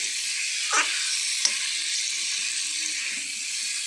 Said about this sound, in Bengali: ভালো মতন করে ভাজে নেবো